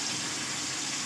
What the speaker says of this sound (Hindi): अब थोड़ा सा इसमें पानी शामिल करेंगे